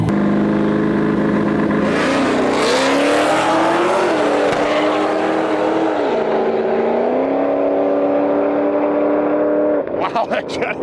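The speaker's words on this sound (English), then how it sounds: "This Volkswagen Jetta has an LS swap twin turbo setup in it" An LS-swapped twin-turbo Volkswagen Jetta of roughly 1,100 horsepower launches down a dragway, its engine roaring and climbing through gears in loud sustained pulls before cutting off, with crowd noise and an announcer's voice beneath.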